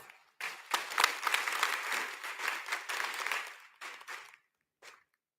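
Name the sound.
audience applause for young students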